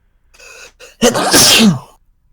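A soft intake of breath, then a single loud, explosive sneeze close up, trailing off into a brief exhale.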